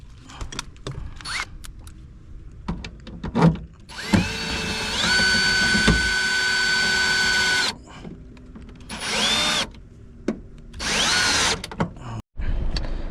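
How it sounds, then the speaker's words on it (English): A power drill drives a new screw into a speaker bracket on the door of a 2022 Honda Civic. Several short whirring bursts come close up, with longer revving runs and scattered clicks and handling noises between them. "gonna put a new screw that comes with the speaker bracket"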